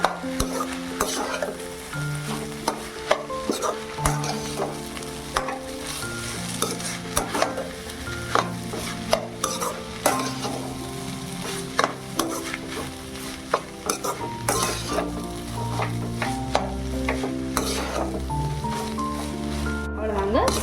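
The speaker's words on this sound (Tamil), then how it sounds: "சேர்த்துட்டு நல்லா மிக்ஸ் பண்ணிக்கலாம் அடுப்பை வந்து ஸ்லோ ஃப்ளேம்லேயே வச்சுக்கணும்" Mango rice is stirred in a pan on a low flame: rhythmic spoon scrapes and soft frying crackle run throughout, with background music and a voice talking.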